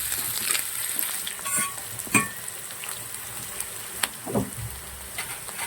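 Onions frying in a pan for a pumpkin stir-fry, with a soft continuous sizzle and occasional scraping stirs and clicks, fairly quiet and close.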